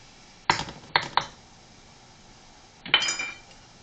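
Metal utensil scrapes and clinks against a pan while flour is stirred into browned ground beef for S.O.S. gravy: a few sharp knocks close together, then one more scraping pass, with no talk.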